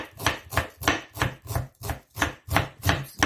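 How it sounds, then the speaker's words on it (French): A knife chops garlic and shallot on a board in a steady, even rhythm, about ten crisp close strikes in quick succession with no talking. "Pour l'ail et l'échalote, on va les mincer."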